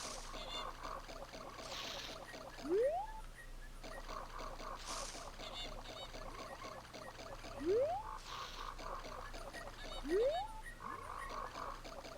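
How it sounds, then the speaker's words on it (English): A frog in the video game Zelda: Majora's Mask croaks in repeated rising calls, three heard at wide intervals over a steady, faint ambient game soundscape with a looping musical pattern. "I can hear the frog."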